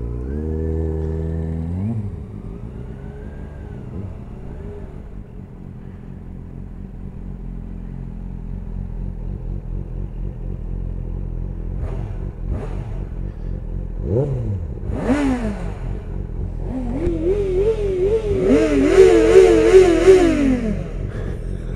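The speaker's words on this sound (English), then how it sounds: "Here's your chance at tunnel revs." Yamaha XJ6F motorcycle revving inside a tunnel on a group ride, engine climbing and falling in repeated sharp blips that grow louder toward the end, with clattering reverberation over a steady road rumble.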